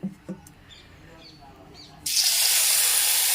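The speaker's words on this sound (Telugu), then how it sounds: "ఇప్పుడు నీళ్ళు పోసేస్తాను నేను" Water is poured from a tap onto rice in a kitchen, starting abruptly partway through as a loud, steady rushing splash after a few faint knocks and quiet background.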